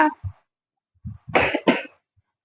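A four-and-a-half-year-old child coughs in a few short, close bursts with brief pauses between them, and no talking is heard.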